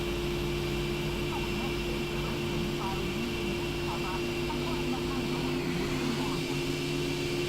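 Steady, loud airliner jet engine drone in a flight simulator, with a constant whine as the engines spool up, continuous throughout with a faint rising tone near the end.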